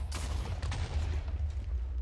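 A Minecraft explosion in a hardcore survival game: a loud, deep rumbling boom with rough crackling bursts that rolls on steadily for about two seconds.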